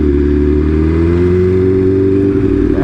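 A Lamborghini engine revs loudly and close by, a steady deep drone with rising harmonics held for a few seconds, no voices over it.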